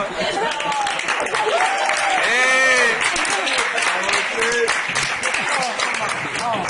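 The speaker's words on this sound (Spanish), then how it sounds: "Venga, un aplauso." Wedding guests applaud during a reception speech, with a steady round of clapping mixed with cheering and excited voices throughout.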